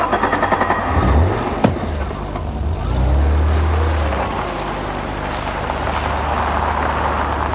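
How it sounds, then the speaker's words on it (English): An Alfa Romeo 164 with a V6 engine and automatic gearbox snarls and drones steadily while driving, the engine note swelling and easing over a constant low rumble. "I've always loved the Alfa V6 unit. It's got a lovely exhaust snarl to it"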